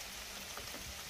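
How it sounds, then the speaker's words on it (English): Steady rain falls outdoors during a hunting trip, a dense, even hiss of drops that stays soft and constant with no voices. "This rain's supposed to end."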